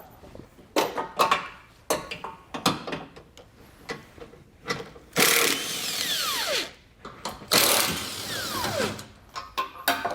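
A power tool removes 16 mm bolts from the bumper beam of a 2022 Audi SQ5 during a trailer hitch install, with short bursts of close ratcheting and clicking, then two longer whirring spins that wind down.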